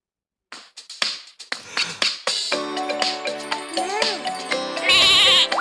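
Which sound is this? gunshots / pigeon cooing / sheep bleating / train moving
sheep bleating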